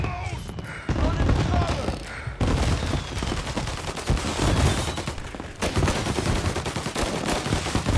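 Gunfire in Mafia: Definitive Edition, a loud, dense burst of rapid shots and fusillade that carries on almost continuously for several seconds, close and overpowering other sound.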